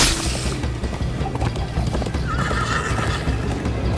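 A horse gallops with steady clip-clop hoofbeats and whinnies in Minecraft: Story Mode, a loud continuous ride with a rumbling game soundtrack underneath.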